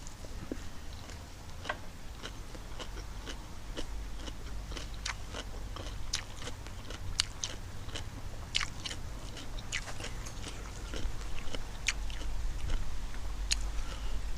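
Someone bites and chews crisp, fresh garden lettuce wrapped with spicy papaya salad, with repeated sharp crunches in an irregular rhythm, close to the mic and fairly quiet, and no talking.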